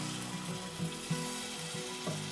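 Water being poured into hot, sizzling egg curry masala in a pan, producing a soft continuous sizzle and bubbling with a few brief splashy bursts, close and fairly quiet.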